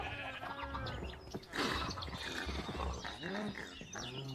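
Minecraft farm animals such as cows call out in overlapping bleats and lowing, several distinct calls in a row rising over a quiet backdrop.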